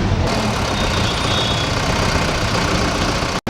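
Mahindra Bolero engine idling in a workshop during engine decarbonizing, a steady loud continuous drone with no talk, ending in an abrupt brief cutout.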